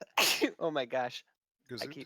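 A single abrupt human sneeze at the start, close and fairly loud, followed by a person speaking briefly.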